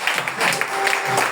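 A church congregation applauds to acclaim the Lord during an evangelist's service, steady clapping close and moderately loud throughout with crowd murmur mixed in.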